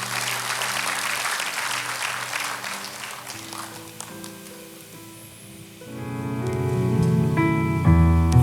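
A congregation claps for God during an online church service, with scattered hand clapping fading as sustained keyboard or music chords swell in and grow louder toward the end.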